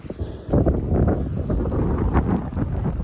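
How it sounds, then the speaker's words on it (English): Gusty wind blowing outdoors in the mountains of Canada by a fishing spot, buffeting the microphone in loud rumbling bursts that start after a quieter moment and continue to the end. "Definitely getting windy."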